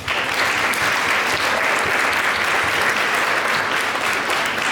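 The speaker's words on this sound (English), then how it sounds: "Let's give all of our gracious sponsors a round of applause." A pageant audience gives sustained, loud applause for the sponsors, a steady wash of clapping from many hands that holds evenly throughout.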